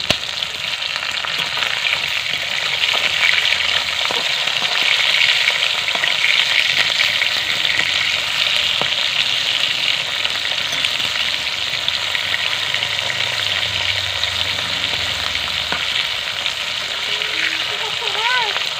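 Flipped pieces of pangas fish sizzle in hot oil, a loud, continuous close-up hiss and crackle that holds steady throughout with faint clatter in the background.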